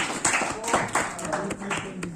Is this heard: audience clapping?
yes